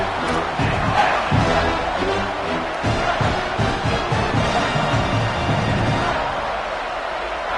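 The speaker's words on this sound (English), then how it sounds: "this crowd is bringing down the house" A loud, roaring stadium crowd cheers through a 3rd-down play at a college football game, dense and continuous with swelling shouts, and a commentator's voice is partly buried beneath it.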